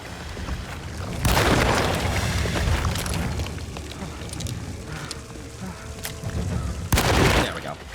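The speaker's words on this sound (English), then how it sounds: "Okay, shotgun." Two loud, booming blasts from a shotgun in the 2024 video game Alone in the Dark, one early and one near the end, over dark mechanical game ambience.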